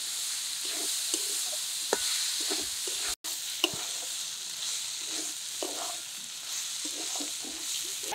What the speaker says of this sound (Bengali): এবার ভালো করে মশলার সাথে সবজিটা কষে নেব।